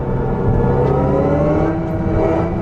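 Synthetic Evolution engine sound from a 2025 Hyundai IONIQ 5 N electric car in N custom mode, a loud, steady, buzzing rally-car drone with a slight rising pitch, heard close and alone.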